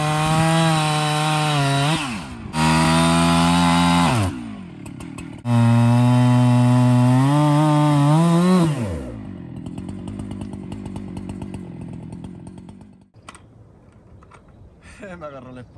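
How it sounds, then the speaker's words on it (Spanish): A chainsaw cuts into a log, revving loud in several strong bursts with rising and falling pitch, then dropping to a lower, rougher idle and fading toward the end. "En el segundo se me quedó pegada la motosierra."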